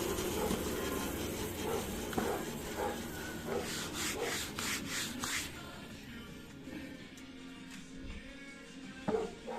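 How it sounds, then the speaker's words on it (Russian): Karelian birch wood blocks being sawn into blanks for Yakut knives, a steady rasping back-and-forth stroke that stays continuous and close, fading slightly toward the end with a few brief knocks. "Сейчас будем пилить"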